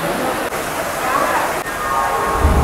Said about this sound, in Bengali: বৃষ্টি হচ্ছে অনেক